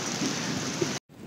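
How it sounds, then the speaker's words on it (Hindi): Heavy rain pours steadily in a dense, broadband hiss, briefly cutting out near the end before resuming. "आपको दिख रहा हो जैसे बहुत तेज बारिश की आवाज भी आ रही है"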